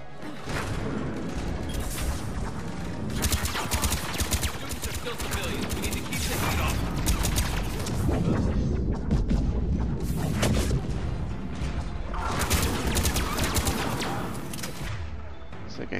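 Heavy gunfire in Mass Effect 3 roars almost continuously, booming shots and blasts layered into a dense barrage with surging peaks, while a player's voice talks intermittently over the combat.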